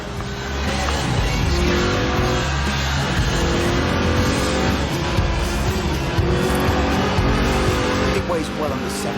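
A Lotus Elise with a 1.8-litre engine revving toward 8,000 RPM while drifting in Forza Horizon 4, a loud, continuous, high-revving engine roar with tyre noise that holds steady throughout.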